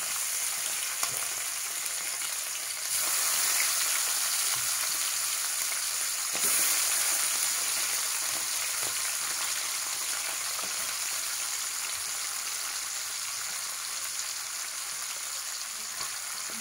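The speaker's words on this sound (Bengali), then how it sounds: "বাটা মাছগুলো দিয়ে দিচ্ছি এবং বাটা মাছগুলোকে একটু ভালোভাবে ভেজে নিতে হবে কড়া করে" Fresh bata fish fry in hot oil in a pan, a continuous dense sizzle that swells louder twice as pieces go in, steady and close with no voices.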